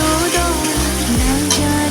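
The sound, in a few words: turmeric, salt and cumin powder frying in a pan for fish curry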